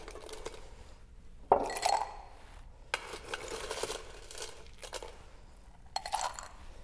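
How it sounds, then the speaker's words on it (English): Ice cubes dropped into a cocktail glass, a few sharp clinks and rattles scattered over several seconds, close and fairly clear with no talk. "And a little more ice in the glass here."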